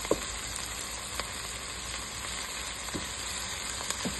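Onion, garlic, coriander and black pepper frying in a pan, a steady loud sizzle with occasional soft clicks and scrapes as they are stirred, no voices.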